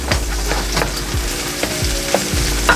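Thai chilies, red chili and serrano sizzle in hot oil in a pan for Bicol Express, with steady frying crackle and several scraping stirs of a utensil against the pan, close and continuous.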